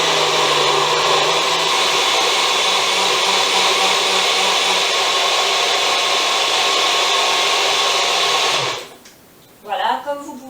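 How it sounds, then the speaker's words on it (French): A powerful countertop blender whirs loudly and steadily up close while blending gazpacho soup, then cuts out near the end, after which a person begins to speak. "soit vous appuyez en tournant pour bloquer le mixeur."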